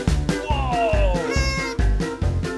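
A playful voice imitates a cat's meow, rising and falling in several drawn-out cries over a bouncy children's dance song with a steady beat.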